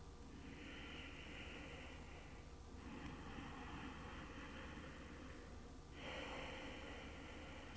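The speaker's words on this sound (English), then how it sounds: "If you're comfortable with it, bring a Ujjayi breathing in as well." Steady, audible ocean-like breaths of Ujjayi breathing during a yoga stretch flow, with long hissing inhales and exhales in slow cycles, close and fairly quiet, no talking.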